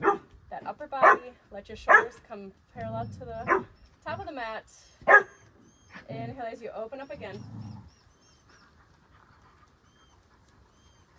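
Household dogs give a few barks and some panting in the background while a person leads a yoga class with steady spoken instructions over them.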